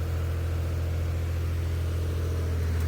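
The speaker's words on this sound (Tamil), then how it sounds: "இப்போதைக்கு ஜென்செட் வச்சு தான் ஓட்டுறாங்க. அதோட சவுண்டு தான் கொஞ்சம் தாங்க முடியாத அளவுக்கு இருக்கும்." A diesel genset runs steadily to power welding work on a bus cabin interior build, giving a loud, continuous low engine hum with no pauses and no voices.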